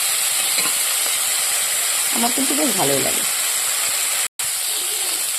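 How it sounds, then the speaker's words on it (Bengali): Bitter gourd (karela) fries in a pan with a steady, even sizzle and hiss throughout, while a voice speaks briefly over it in the middle. "করলাটা মোটামুটি ভাজা হয়ে গেছে"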